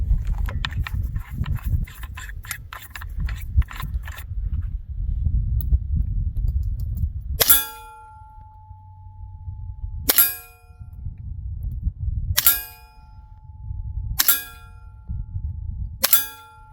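ViperX .30 caliber PCP air rifle fired with an Evanix moderator, five sharp muffled cracks with metallic ringing, spaced roughly two seconds apart, after a stretch of low handling noise.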